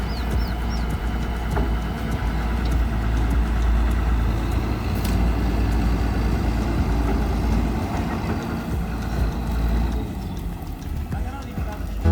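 A combine harvester's engine is running: a low, heavy, steady rumble holds throughout at close range while people talk over it.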